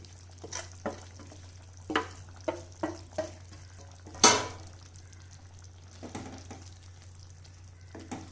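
Masala powder stirred into a stuffed brinjal curry frying in oil, with a soft sizzle beneath repeated spoon scrapes and knocks against the pan, one sharply louder.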